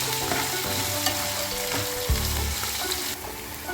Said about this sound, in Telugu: ఇవన్నీ ఆయిల్లో ఫ్రై అయ్యే విధంగా బాగా వేపుకోవాలి